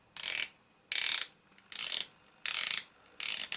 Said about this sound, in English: The bezel is unidirectional obviously and has 120 clicks.